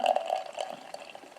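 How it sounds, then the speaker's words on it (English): Becks Green Lemon beer being poured out, a steady close liquid splash and gurgle that starts strongest and eases slightly over a second and a half, with no talk. "I wanted to pour this out just to see the colour of it"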